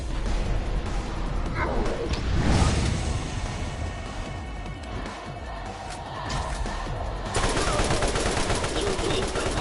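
Dense, loud gunfire from the video game Borderlands, with rapid shots and explosive bursts overlapping continuously throughout over a busy game soundscape.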